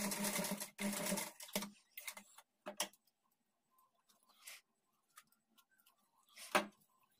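A sewing machine stitches fabric for blouse tassel making in short bursts of rapid mechanical clatter, loud at first and then stopping and starting between quiet gaps.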